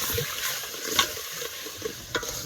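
Gravy with chilli, ginger and garlic hits a hot pan, giving a soft sizzle broken by a few stirring scrapes and light clinks, fairly quiet and close.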